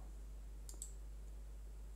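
Computer mouse double-click on a PC during database work: two quick, faint clicks in close succession, later a single soft click, over a quiet room hum.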